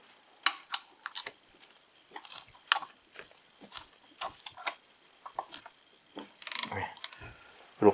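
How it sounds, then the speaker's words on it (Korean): A ratchet wrench loosening the water pump pulley bolt on a Chevrolet Cruze 1.4 turbo gives a series of sharp, close clicking bursts in irregular clusters, with no talk. "여기 워터 펌프 여기 풀리 고정된 요 볼트를 그냥 살짝만 풀어 주겠습니다."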